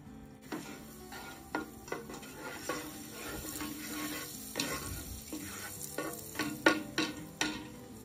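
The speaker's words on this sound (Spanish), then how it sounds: "Le voy a agregar la, mantequilla y poquito aceite para que no se queme" Butter and a little oil sizzle and crackle steadily in a pan, close and fairly loud, with sharp pops and the clink of a utensil stirring in the fat.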